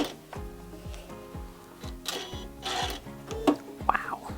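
Sewing machine stitching a quilt, running in a steady rhythmic chug of evenly spaced needle strokes, close and moderately loud, ending with a few small clicks and a brief higher squeak.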